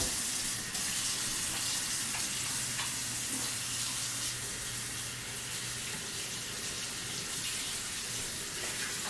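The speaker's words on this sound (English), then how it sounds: "Let me wash again my hands." Hands washed under a running kitchen tap while cooking kookoo, a steady close hiss of flowing water with faint splashing throughout.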